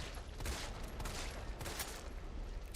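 Rapid pistol fire from Resident Evil 3 Remake on Inferno mode, a dense run of sharp shots packed close together, loud and steady over a game-sound bed with no talk.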